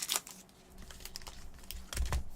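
Foil Pokémon booster packs from an Ultra Prism booster box crinkle and rustle in soft, irregular bursts as they are shuffled by hand, close and quiet with no talking.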